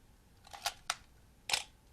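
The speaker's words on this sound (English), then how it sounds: "you can hear the shutter opening and closing" Close, crisp mechanical clicks from a film camera shutter opening and closing, three distinct snaps spaced unevenly over a quiet background with no voices.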